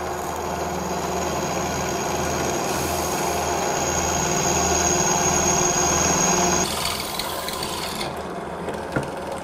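A drilling machine bores a large hole in metal, giving a steady mechanical hum and grind with a sustained whine. The tone shifts and thins out near the end, and no one speaks.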